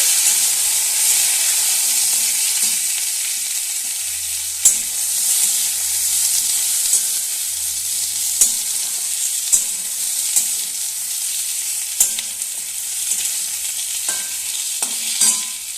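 Half-boiled potatoes fry with small desi shrimp curry in a pan, giving a steady broadband sizzle throughout, broken by regular clicks and scrapes of a spatula stirring the pieces.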